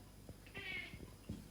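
A house cat gives a short, fairly faint meow, a single drawn-out call with soft thumps and small noises around it in a quiet room.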